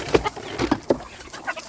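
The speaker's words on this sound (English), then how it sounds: "Hey, chickens!" Farm chickens, including Ayam Cemani, cluck in short, scattered bursts nearby, a few brief calls spaced over under two seconds.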